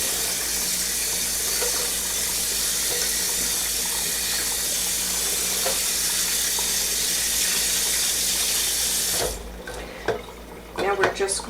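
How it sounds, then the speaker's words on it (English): Cold tap water runs steadily into a sink while cucumbers are rinsed for canning, a constant close hiss that stops near the end, followed by a few clunks and splashes. "you're supposed to rinse them in cold water"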